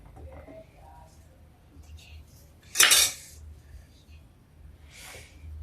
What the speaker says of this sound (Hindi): अब देखिए मैं सब्जी अपनी बेटी को परोस के देती हूँ।